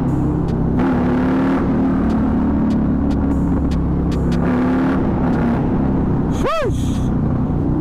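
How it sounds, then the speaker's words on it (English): Riding along with a Harley-Davidson Night Rod and two Kawasaki Vulcan S 650 motorcycles, the engines give a steady low rumble of road and wind noise throughout, with a faster vehicle sweeping past near the end. "Got two of the bros following me at the moment on the Kawasaki Vulcan S's."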